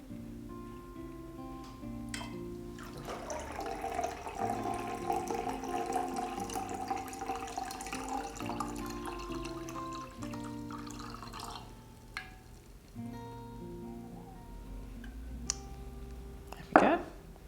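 Water poured carefully from a jug into a vase for flower arranging, a faint, continuous trickle with small splashes and drips, then a few clinks and a brief louder knock near the end.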